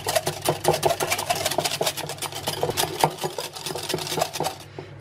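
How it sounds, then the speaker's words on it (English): A wire whisk beats egg whites to a froth in a bowl, making a fast, continuous rhythmic rattling and tapping that stays close and steady throughout. "we're going to whisk up our whites until they're nice and frothy. So I'm just using a wire whisk for this."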